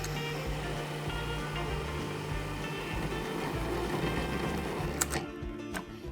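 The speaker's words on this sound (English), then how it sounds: "I'll plop in the 2 yolks, and now I'll blend this together into a dough." A food processor or mixer blends tart dough with two egg yolks and butter, producing a steady mechanical whirring drone at moderate volume that continues throughout, with a couple of faint clicks near the end.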